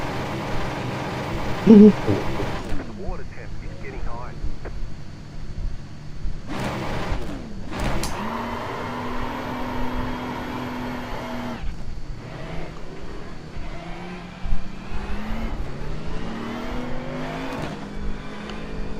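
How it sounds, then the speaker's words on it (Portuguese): A car drifting with its rear tyres heating up, the engine revving and swooping through rising and falling pitch, with sharp bursts and screeching surges heard close and loud. "Olha o drift agora, hein?"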